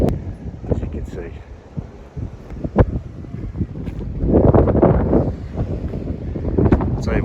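Gusty wind buffets the microphone outdoors on the coast near Minehead, rumbling in low surges that swell midway, while someone talks over it.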